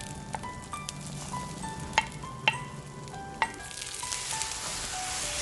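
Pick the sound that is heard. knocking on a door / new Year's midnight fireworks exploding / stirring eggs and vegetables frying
stirring eggs and vegetables frying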